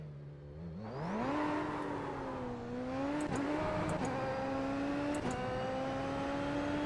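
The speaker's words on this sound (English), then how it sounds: "Right, load of brake, full throttle, and we're away." A Super Formula SF23 race car in a racing game launches from a standstill with full throttle, the engine note climbing steadily through several upshifts, loud and continuous with no talk over it.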